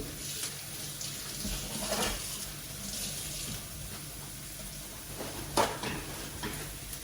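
Onion softens in a pan for a pumpkin medallion dish while a spoon stirs it, giving a soft continuous sizzle with occasional scrapes and a sharper clink near the end.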